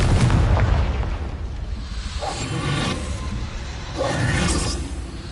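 Confringo fire-spell blasts in the video game Hogwarts Legacy: heavy booming explosions with whooshing bursts, one big blast at the start and further loud impacts about midway and near the end, no talking.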